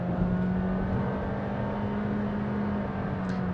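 A Honda City with a CVT accelerates from around 1500 RPM to overtake, giving a steady, droning engine hum with a constant low tone, heard from inside the cabin with no talking.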